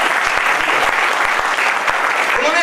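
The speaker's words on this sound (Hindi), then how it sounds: "बस एक बार जोरदार तालियां बजाएं।" Dense, energetic clapping from a seminar audience, loud and close throughout the short stretch with no break.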